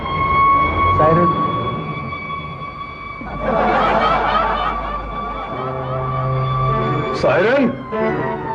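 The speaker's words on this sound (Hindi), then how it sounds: "पुलिस की सायरन सुनने के बाद इन्हें कोई आवाज सुनाई नहीं देती" A steady electronic tone holds throughout, like a police siren, while voices and laughter rise over it in loud bursts nearby.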